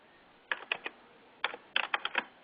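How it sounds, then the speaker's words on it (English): Computer keyboard being typed on in short bursts of quick clicks, a few keys then a pause then a longer run, close and fairly quiet with no talking. "I'm having troubles typing"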